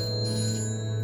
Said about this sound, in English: her phone started ringing off the hook.